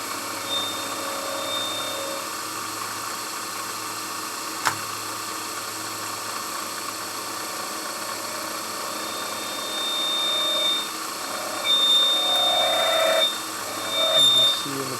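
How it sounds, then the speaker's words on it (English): A lathe turns and chamfers a shaft with a fresh cutting bit, making a steady high-pitched whine with a faint mechanical hum. The tone rises and becomes louder in short bursts toward the end, as if the cut is biting. "I'm just going to put a different bit in there and just turn that shaft on smooth and chamfer the edges"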